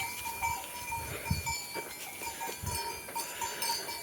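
A billy goat on a farm, among livestock, with faint bleats and a bell clanking intermittently over steady outdoor ambience and a distant hum.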